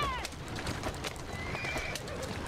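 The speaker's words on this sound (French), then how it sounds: "J'adore fouetter les chevaux!" A horse whinnies in Assassin's Creed Syndicate, a sharp neigh at the start followed by quick clip-clopping hooves under faint background game sound.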